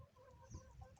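A hen clucks softly in a farmyard, a faint, brief run of low, throaty clucks against quiet background noise.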